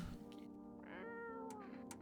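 A cat in a video game lets out a drawn-out, rising-and-falling meow, close and clear over a soft background music bed.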